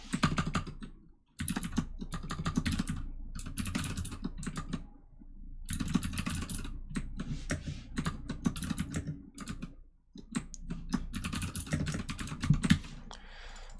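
Steady bursts of computer keyboard typing, close and fairly loud, with short pauses between runs of keystrokes while someone codes a React chat application.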